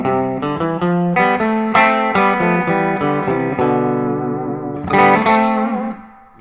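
An electric guitar played through a pedalboard with a global reverb for a surf sound, a run of bright picked notes ringing close with a lingering wash of reverb that fades at the end, no talking.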